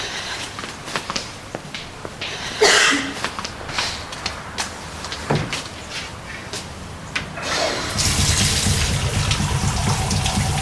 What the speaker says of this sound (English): So he waited until she was in the shower.